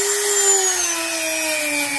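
A power sander whines steadily against wood in a car trunk build-out, a close, continuous high-pitched drone with its pitch drifting slightly downward.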